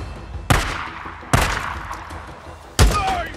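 Three sharp gunshots in the video game Days Gone, spaced irregularly, each a loud crack with a short echoing tail over a low background rumble.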